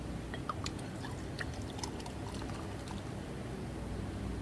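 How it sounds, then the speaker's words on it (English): Left Handed Nitro Stout beer poured from high into a glass, a soft continuous fizzing pour with faint splashes and small bubbly crackles, quiet and close, with no talk. "you'll see why when I start pouring it"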